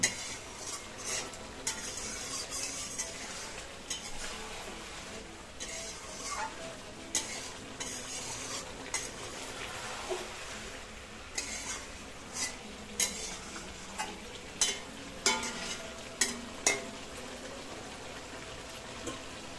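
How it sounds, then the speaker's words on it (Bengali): Desi chicken curry is stirred and sautéed in a pan, with repeated scraping strokes of a spoon over a constant low sizzle, the bursts coming in an uneven rhythm and growing sharper toward the end. "আমরা জাস্ট এখন নাড়িয়ে চাড়িয়ে নেবো"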